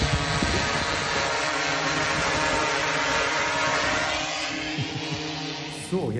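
A drone flies overhead, a steady buzzing whine with harmonic tones holding throughout, fairly close and fading slightly toward the end, with no talk over it.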